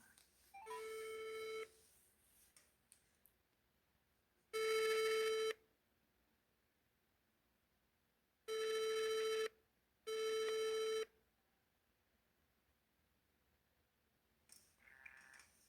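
An outgoing phone call rings back four times, each a steady electronic tone lasting about a second with long quiet gaps between, clear and alone.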